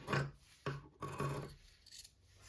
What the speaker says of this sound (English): you're ready to start cutting out. So just take your scissors